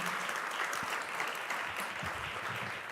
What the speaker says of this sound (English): Please, an applause for all of them.